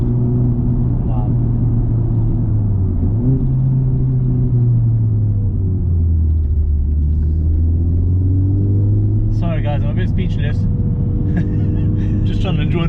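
A Honda Civic Type-R FK8 rounds a roundabout, its engine a loud, steady low rumble inside the cabin with the pitch sinking and rising as it eases off and pulls again, while someone talks over it.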